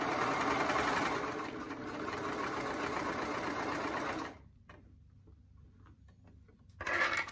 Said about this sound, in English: So we'll hem with a 1/2 inch seam allowance.